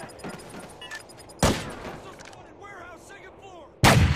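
Two sharp, loud gunshot blasts crack out in a video game, spaced a couple of seconds apart, with voices chattering faintly between them.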